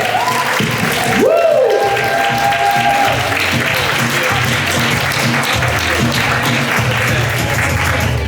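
Audience at a fan convention clapping loudly for actors Ronen Rubinstein and Rafael Silva, a sustained wash of applause with a shrill whistle and shouted cheers over it and talk mixed in.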